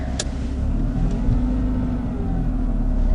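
A car drives steadily along flat country roads, its engine humming with a continuous low rumble and road noise close to the microphone, without speech.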